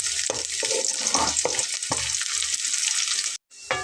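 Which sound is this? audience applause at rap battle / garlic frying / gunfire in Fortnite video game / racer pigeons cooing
garlic frying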